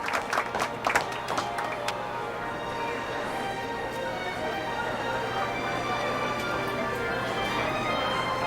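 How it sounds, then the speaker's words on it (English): Applause in the Back to the Future video game: a crowd claps in a steady, even wash that begins with a few sharper claps and holds at a moderate level without letup. "How about a round of applause just for the heck of it?"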